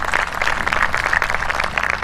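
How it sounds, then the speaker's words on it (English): Audience at a high school graduation ceremony applauds steadily throughout, a dense, continuous clapping from a crowd heard fairly close and with no talking over it. "Yeah, you can clap for that."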